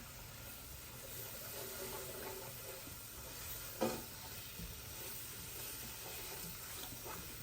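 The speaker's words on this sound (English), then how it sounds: "Now we need to whisk in a 1/2 cup of flour." Flour is whisked into melted butter in a hot pan, making a faint steady sizzle with soft stirring scrapes and one brief sharper knock partway through. No one speaks.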